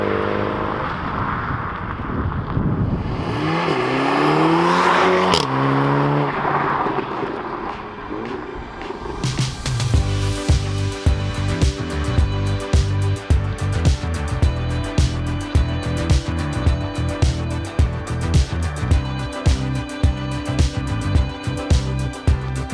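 Golf R and Mini JCW hot hatches make flybys, with a car approaching from a distance and sweeping past before loud, rapid exhaust pops and revving engine pulses dominate the rest.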